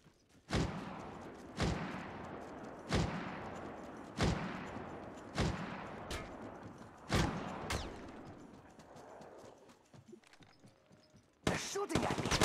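Gunfire from the shooter video game Apex Legends sounds as about nine sharp, loud shots spaced roughly a second apart, each trailing off into a rumbling decay, followed by a quieter gap and then a denser final burst.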